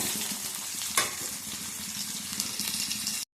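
Onion sizzling in hot oil in a wok while egg tarka is cooked, a steady loud crackle throughout with a brief sharper burst near the start as the onion goes in.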